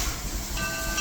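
Two narrow gauge steam locomotives pull a train into a station, heard as a brief burst of close rolling rumble and rail noise with no voices.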